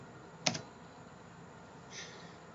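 A single sharp computer keyboard press, close and quiet, is followed later by a softer key tap, with a faint hiss behind.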